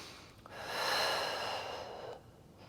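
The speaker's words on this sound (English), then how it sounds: "Deep breath in." A single deep inhalation during a home Pilates class, a soft, airy breath in that swells and holds for about two seconds, close and quiet, with no talking.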